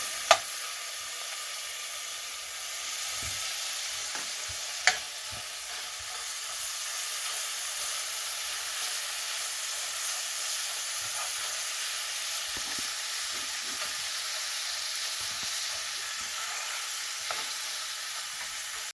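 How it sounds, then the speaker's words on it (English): Mashed onion, garlic and ginger fry in a hot pan with a soft, continuous sizzle and crackle. A couple of sharp taps and faint stirring sounds come through, and no one speaks. "you're gonna put your mashed onion, mashed garlic and ginger in there, and let it cook for a bit"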